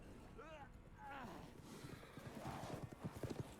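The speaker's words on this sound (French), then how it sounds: "Oh, ils sont au cheval maintenant." Horses ridden by villagers in the Resident Evil Village video game, their hooves clip-clopping in a quick rhythm beneath a nearby whinny, fairly faint, with someone speaking over it.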